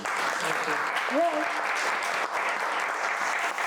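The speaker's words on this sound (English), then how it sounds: "please give him a round of applause" An audience applauds a speaker at an event, a dense steady clatter of clapping from start to finish while a voice briefly calls out over it.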